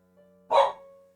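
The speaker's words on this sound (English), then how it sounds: "And Frank's barking." A single dog bark rings out loud and close, one short burst standing out against a quiet room with a steady low electrical hum.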